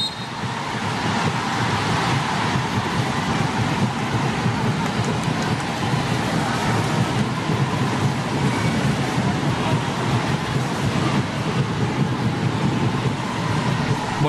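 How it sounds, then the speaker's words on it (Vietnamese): Rain falls steadily on an open football pitch during a Vietnam versus Thailand international match at the 2019 King's Cup, a broad continuous hiss that fills the whole stretch at moderate loudness without clear breaks. "Trên sân lúc này đang có mưa."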